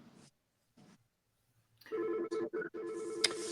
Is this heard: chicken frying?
no